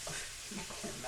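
Shrimp fried rice with soy sauce to come is tossed and scraped around a home stove pan, giving a brief, soft scraping and stirring sound with faint sizzle and a couple of low knocks.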